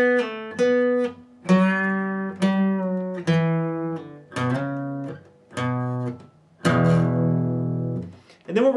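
Slow guitar riff of power chords, each struck and held about a second with short muted gaps between, ending on a longer ringing chord; no talking.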